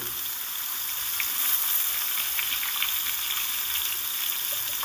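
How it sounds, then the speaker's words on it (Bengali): Brinjal pieces fry in hot oil, giving a loud, continuous hissing sizzle close by with scattered crackles, and no voices. "এবার ওই তেলের মধ্যেই বেগুনগুলোকে ভেজে নেব"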